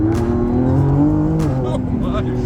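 A Lamborghini Revuelto, an all-wheel-drive hybrid with electric motors, accelerates hard on a demonstration run, its engine note rising steadily and loud and close, with tire noise and voices over it.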